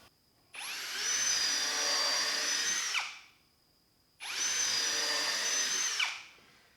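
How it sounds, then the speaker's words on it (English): Two bursts of a power drill with a 1/8 inch bit boring holes in wood, each whirring at full speed for a couple of seconds before winding down, with a short pause between. "I got a 1/8 inch drill bit on my drill here, and I'm just gonna drill 2 holes"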